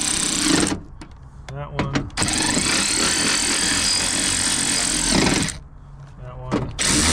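A power tool tightens a part down inside a Honda CR-V door panel during a power window repair, running in loud sustained bursts with brief pauses, while a voice speaks briefly.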